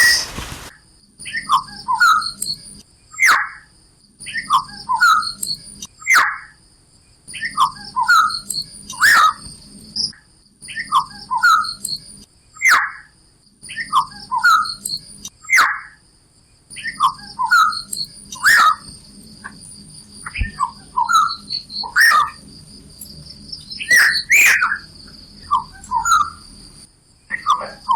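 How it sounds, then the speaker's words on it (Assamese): Calls of the sakhiyati bird of South Asia: a steady series of short, clear chirping notes repeating every second or so, with a faint high whistling tone and a low background hum throughout. "সখীয়তীৰ বিভিন্ন মাতবোৰ শুনকচোন।"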